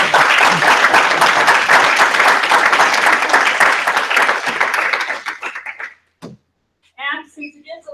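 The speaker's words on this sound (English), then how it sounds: "So I think a big round of applause is." A university lecture class gives a loud round of applause on its last day, dense clapping for about five seconds that thins out and stops, followed by a brief voice.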